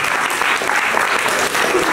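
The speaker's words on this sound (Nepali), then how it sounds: "हामी उहाँलाई ताली बजाएर धन्यवाद दियौँ।" A small crowd claps steadily at an engagement ceremony, a close, continuous patter of hands that holds at one level for a couple of seconds.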